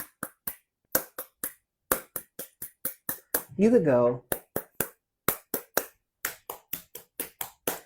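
A teacher claps a rhythm pattern with bare hands, crisp close claps in short grouped bursts with pauses between them, and a brief sung or spoken phrase partway through.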